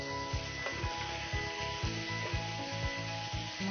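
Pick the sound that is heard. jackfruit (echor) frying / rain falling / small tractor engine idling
jackfruit (echor) frying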